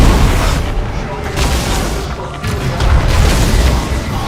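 A tactical squad trades fire in the Dawn of War 2 video game, with loud, continuous booming blasts and gunfire layered densely together, and voices mixed into the din.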